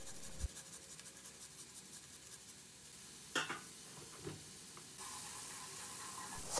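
Tomato paste and freshly grated garlic frying in a pan, a faint soft sizzle with occasional light scrapes of a spoon, quiet and close.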